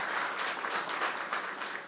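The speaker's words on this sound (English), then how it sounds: "a round of applause for the pitch" Audience applause at a startup pitch event, a steady dense wash of clapping filling the room for about two seconds, loud and continuous with no voices.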